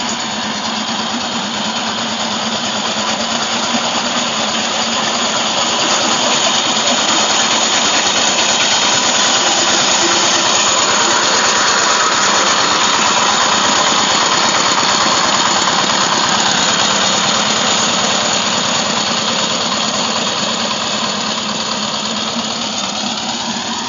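A tractor engine running steadily in a rice field at harvest time, a loud continuous rumbling drone with a rough knocking texture that holds at a constant pace throughout, with no talk.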